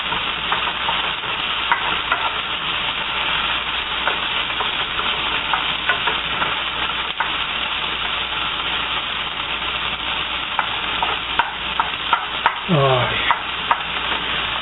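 Onions sizzling in a frying pan while being stirred, a continuous close hiss with scattered scraping clicks and a brief louder clatter near the end.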